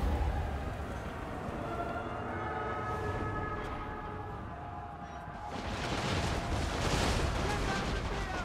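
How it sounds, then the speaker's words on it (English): Units firing in a Total War: Warhammer 2 battle with High Elves, a distant, muffled rumble of volleys and booms that swells near the end, with a voice talking over it. "Those guys just need to stop firing"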